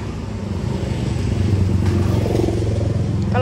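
Motorcycles and cars pass along Poppies Lane, a narrow street in Kuta, Bali, as a steady engine rumble that swells with a nearby rev, set in street ambience.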